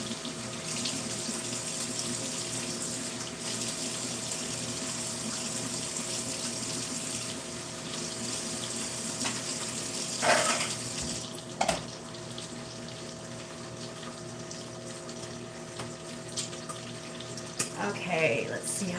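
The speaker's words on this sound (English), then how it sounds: "Rinse out these." Kitchen faucet running steadily while dishes are rinsed in the sink, a continuous close water rush with a few clinks and knocks of dishes partway through.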